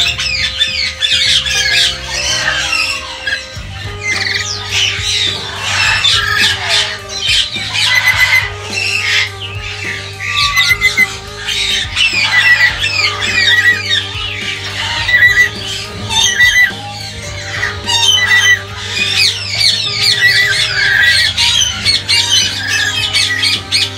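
A breeding pair of lorikeets squawks loudly and repeatedly at close range, harsh screeching calls coming in bursts over a steady low hum.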